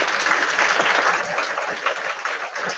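A crowd at a school event claps loudly and steadily, dense applause filling the whole stretch without pause.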